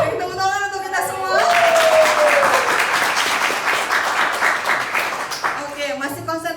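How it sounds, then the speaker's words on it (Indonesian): An audience at a university gathering with lecturers and students bursts into sustained applause, a dense wash of clapping that swells quickly, holds for several seconds and then tapers, with a speaking voice heard before and after. "Beri tepuk tangan untuk kita semua."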